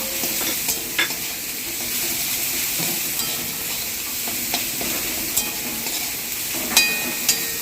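Prawns fry in hot oil with a pinch of asafoetida, a constant close sizzle broken by scraping stirs and occasional sharp spatters from the pan.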